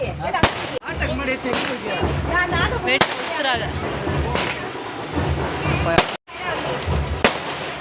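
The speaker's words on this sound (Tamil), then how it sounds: "வெடி பூத்தட்டு வந்துட்டு இருக்கு." Firecrackers burst at a temple chariot festival with several sharp, loud bangs scattered through the stretch over a constant crowd hubbub and nearby voices.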